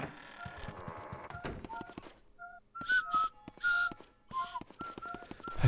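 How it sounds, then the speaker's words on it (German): Luigi whistling in the video game Luigi's Mansion, a series of short, bright whistled notes in a playful tune, broken by brief pauses, with clicky game sounds and music underneath. "Ich liebe Luigis Pfeifen"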